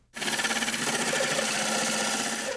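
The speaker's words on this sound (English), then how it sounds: "So let's start drilling from this side." A hole saw on a power drill grinds steadily through wood close by, a continuous buzzing whir with a slight rhythmic flutter, starting abruptly and running without pause.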